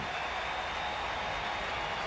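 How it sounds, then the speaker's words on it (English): A big afternoon baseball crowd in Cincinnati cheering and applauding, a dense, continuous roar of many voices and clapping that stays loud and even throughout. "And a huge crowd here for an afternoon game in Cincinnati, and now they're making some noise"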